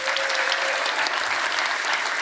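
A conference audience at Beyond Tellerrand claps in steady, dense applause that fills the room evenly throughout, with no speech over it.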